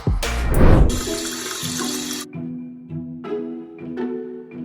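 Water runs from a kitchen tap into a glass, a loud steady splashing stream that starts abruptly, then eases off into a lighter trickle with faint tonal ringing as the glass fills.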